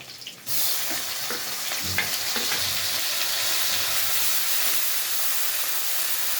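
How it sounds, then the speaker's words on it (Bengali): Chopped onion and prawn paste frying in a pan, a loud continuous sizzle with occasional stirring scrapes and clicks, close up and with no talking. "পেঁয়াজ কুচিটা পেঁয়াজটা একটু ভাজা ভাজা হয়ে গেলে তারপরে দিয়ে দেবো চিংড়ি মাছ বাটাটা"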